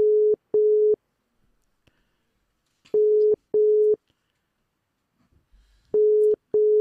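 A telephone busy signal during a call sounds in paired steady tones repeating at regular intervals, loud and clear with near silence between them.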